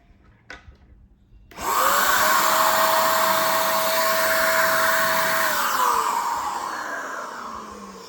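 A cordless paint sprayer running on a Dewalt 20V battery starts up after a click and whirs loudly and steadily as it sprays paint, holding a constant motor whine before winding down at the end.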